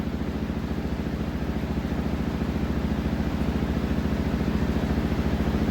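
Steady mechanical whirring from an LG front-loading washing machine spinning up, with a fast, regular pulsing that gradually quickens, loud and continuous.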